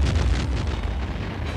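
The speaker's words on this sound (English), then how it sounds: "we have a lot of explosions, which is all very dangerous" A film explosion stunt on the set of Rambo III: a loud, sustained blast rumble with deep booming low end that roars and crackles for the whole moment, with no voices.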